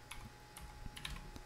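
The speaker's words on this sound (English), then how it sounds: "Now I'll type in the SMTP server for tcsejmrl.com." Several quick, light keystrokes on a computer keyboard, irregularly spaced clicks heard close and alone.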